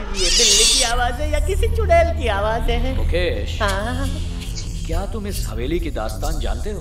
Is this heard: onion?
no